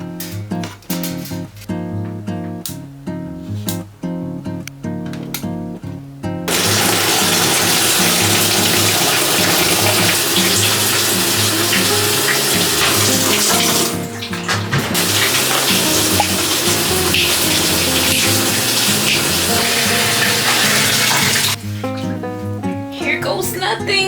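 Water gushes steadily into a washing machine as it fills to wash a crochet scrap yarn blanket, a strong continuous rush lasting most of the stretch between quieter moments at the start and end.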